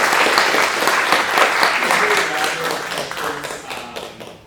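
A room of attendees at a presentation bursts into dense applause, sustained and fairly loud for over four seconds with individual claps audible, gradually thinning toward the end.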